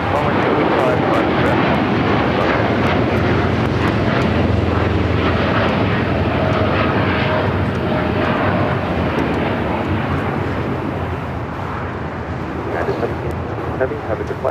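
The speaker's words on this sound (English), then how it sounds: "That was the United Dreamliner heading to Newark" United Boeing 787 Dreamliner airliner taking off from LAX, bound for Newark: a loud, sustained broadband jet roar that slowly fades as the plane climbs away, with voices talking over it.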